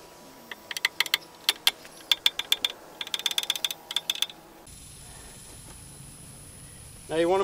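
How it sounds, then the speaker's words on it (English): A jack is worked under a boat trailer axle, giving a run of sharp ratcheting clicks in quick bursts, followed by a quieter stretch and a brief metallic scrape at the end. "take the jack and get the jack under the axle and raise the tire up where it clears"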